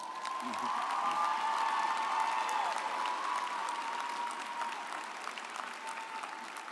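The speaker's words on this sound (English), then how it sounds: "Please join me in giving them a round of applause" A large commencement audience at West Virginia University applauding in a sustained, dense roar of clapping that gradually tapers, with a faint sustained tone underneath and some distant cheering.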